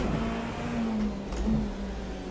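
A BMW race car engine from the Rennsport racing game holds a steady mid-revving drone with slight pitch shifts as it runs through a corner, loud and continuous.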